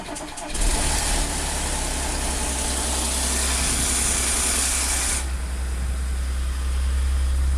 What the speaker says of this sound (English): this is the first start after putting the engine back together again.